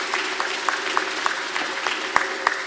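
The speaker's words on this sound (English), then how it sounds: "Give her another round of applause for that." Applause from an audience, a dense patter of clapping that carries on steadily throughout, with a few sharper claps standing out.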